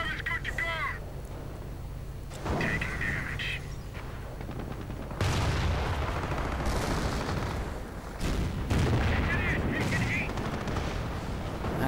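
World War II strategy game battle with dense machine-gun bursts, rifle fire and artillery blasts, continuous loud rattling volleys and booms layered throughout, with no speech in the clip.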